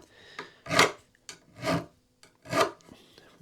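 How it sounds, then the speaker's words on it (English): Three slow, rasping strokes of a coarse metal file shaping the fret ends on a Flying V guitar neck, each stroke distinct and close, with short quiet gaps between them. "this file actually is a little bit coarser"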